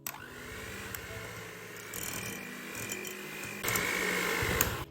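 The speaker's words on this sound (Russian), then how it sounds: "Взбиваем до однородности на низкой скорости." An electric mixer whips cream at low speed in a bowl, a steady close motor whir with a faint rattle that swells slightly louder near the end.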